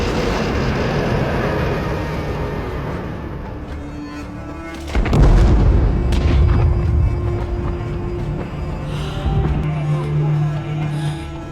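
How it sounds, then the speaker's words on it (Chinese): A large airliner roars up out of volcanic ash in a disaster film scene on a Norwegian island, a deep rumbling surge that swells from about five seconds and stays loud over a dense, dramatic background. "转眼却看见巨大的飞机从火山灰中飞出"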